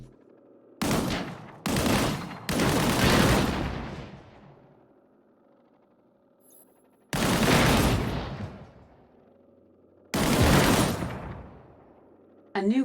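Gunfire from the video game Disintegration, fired at a barrel during a tutorial: several loud, separate bursts with gaps of quiet between them, close and alone with no talk over them.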